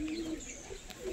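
A young adult pigeon gives a brief, soft coo close by, a low steady tone over faint background hiss, with no talk during it.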